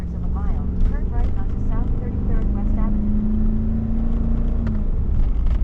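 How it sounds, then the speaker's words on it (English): A long, drawn-out metallic squeak from a trailer hauling an overloaded roll-off dumpster of brick behind a Ram 2500 holds for a few seconds over road rumble, with a person talking before it starts. "the trailer made a loud squeak"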